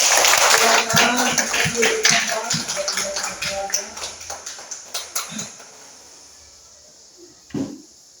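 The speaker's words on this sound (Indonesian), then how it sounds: "Mari kita beri tepuk tangan" Children clap together in an elementary school classroom, a dense burst that thins into scattered taps and fades out, with a brief knock near the end.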